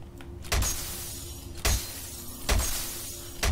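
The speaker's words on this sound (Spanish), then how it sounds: "Me encanta romper cristales." Glass shatters four times at a steady pace in the video game F.E.A.R., each a loud close crash over a low steady drone.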